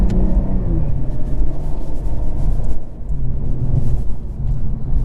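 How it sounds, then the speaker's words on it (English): A 2022 Cadillac CT4-V Blackwing engine and exhaust in sport mode rumble steadily with a deep, throaty drone, holding loud and continuous throughout, with no voices. "Definitely hear the exhaust gets a little bit louder in sport mode versus touring mode."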